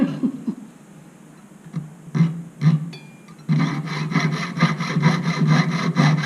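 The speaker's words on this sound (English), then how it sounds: "So I'm going to saw this off here." A small saw cuts a silver key hole clasp at a jeweller's bench, starting with a few scattered scrapes and then settling into quick, even rasping strokes that stay close and clear.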